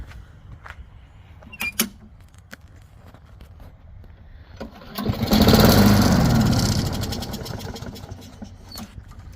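A non-starting lawn mower has its engine pulled over after starting fluid goes into the carburetor. A few clicks and clunks come first, then the engine fires into a loud, close rattling run that fades as it starts to die.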